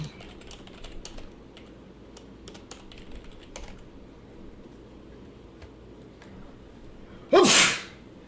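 A single loud, close sneeze bursts out near the end of a stretch of quiet, steady computer keyboard typing during a livestream.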